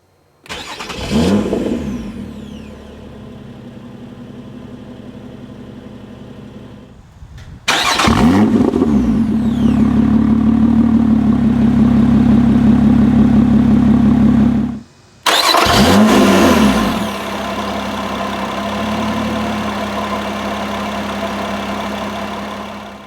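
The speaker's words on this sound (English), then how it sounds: "hit the engine start button to the left hand side of the instrument cluster" Lotus Evora 400 engine cranking and firing up three times in a row, each start a sharp loud burst settling into a steady, rumbling idle, with a brief cut to silence between attempts and no talk.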